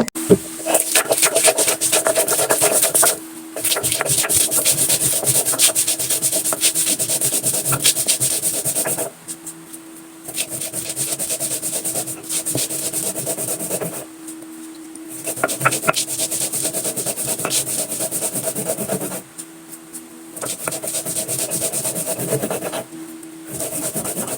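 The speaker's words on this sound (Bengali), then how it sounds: "এখন খুবই ভালোভাবে মশলাটাকে বেটে নিব" Spices, onion, cardamom, cinnamon and a small piece of ginger are ground on a grinding stone, a steady rough rubbing and scraping in long continuous bursts with a few brief pauses, close and fairly loud.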